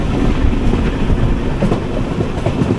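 The 06035 Tambaram–Kochuveli Summer Special train, running via Sengottai, rumbles along the rails at close range, a loud, steady low roar with rhythmic clattering of wheels over track joints.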